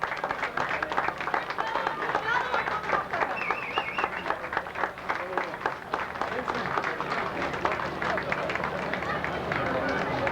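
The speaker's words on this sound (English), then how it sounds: "a big round of applause for all the contestants, all the floats, all the participants" Large outdoor crowd at a 1996 festival opening parade gives sustained, dense applause for the best float winners, a continuous wash of clapping with cheers and chatter mixed in, steady throughout.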